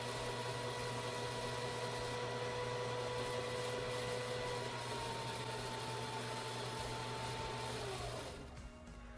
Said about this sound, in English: push down on the foot controller and wind the thread onto the bobbin until it's almost completely full.